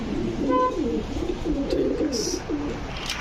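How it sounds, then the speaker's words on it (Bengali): Fancy pigeons at a pigeon farm coo steadily and close by, their soft, low, throaty calls overlapping in a continuous rolling murmur with no talking. "দেখতে দেখতে আমরা বেশ কয়েকটা কবুতর দেখা ফেলছি"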